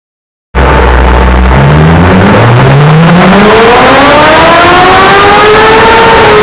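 A 2009 Honda CBR1000 motorcycle engine fires up and revs steadily upward on a pre-run, loud and close, its rising pitch sweeping up continuously for several seconds with no voices.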